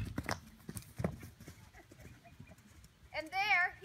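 A horse in a groundwork lesson answers a raised stick: faint hoof clops and shuffling at first, then a loud, wavering whinny bursts out close by at the end.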